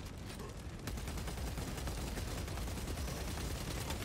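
Rapid, dense gunfire in the video game Space Marine 2, a sustained loud volley of overlapping shots that runs without a break and rises in intensity after the first second.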